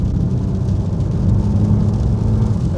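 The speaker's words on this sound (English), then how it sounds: "Nice induction bark coming from somewhere." A 2019 Abarth 595 Esseesse with a 1.4 engine of about 180 horsepower drones under acceleration, a loud, steady engine and intake growl heard from inside the car with a rising tone and no voices.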